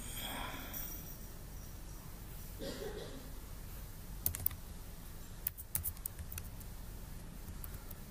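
An ID number is typed on a computer keyboard, heard as a few brief, faint clusters of key taps over a quiet background hiss.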